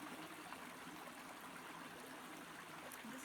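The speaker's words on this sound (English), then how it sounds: "Just letting the sound of the water just relax and deepen." Stream water flows continuously in a natural setting, a faint, even rush and trickle with no voices, steady throughout.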